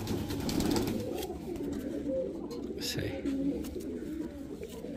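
Sialkoti pigeons cooing in a cage, soft low throaty coos repeating close by, with someone briefly talking over them.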